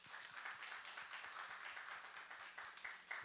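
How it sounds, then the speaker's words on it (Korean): A church congregation applauds during a Sunday worship service, the clapping fairly faint and distant in a room with a low rhythmic thumping under it. "박수 한번 부탁드립니다."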